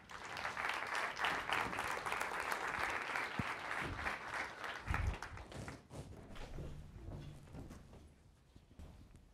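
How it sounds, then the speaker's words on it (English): Audience applause at a NASA outreach event, a steady wash of many hands clapping that stays loud for several seconds, then thins out and tapers off toward the end. "Can I get another round of applause for him, please?"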